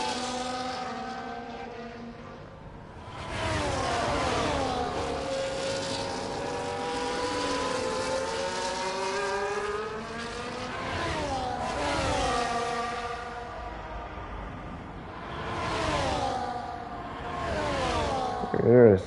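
Race cars, Ferraris among them, roar in a racing video game at the Netherlands circuit, engines whining and shifting through rising and falling pitch sweeps as cars pass, loud and continuous with commentary voices over them.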